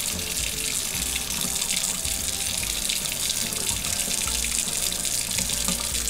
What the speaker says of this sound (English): So you're gonna turn on the water.